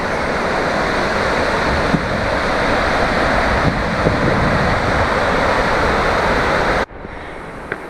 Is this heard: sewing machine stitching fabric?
no